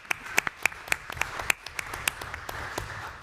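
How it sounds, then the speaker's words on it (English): Applause breaks out at a vice-presidential roundtable on Operation Warp Speed, heard as sparse, distinct hand claps at an irregular pace, moderately loud and close, with no talking over them. "I think that's actually worth a round of applause to everybody here"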